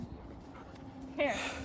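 A golden retriever whimpers on a hike, a brief high whine rising near the end over quiet voices talking nearby.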